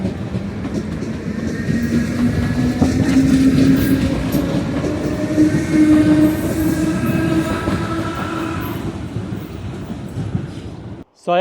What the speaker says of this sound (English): So let's film my train arriving and let's go to Bayside.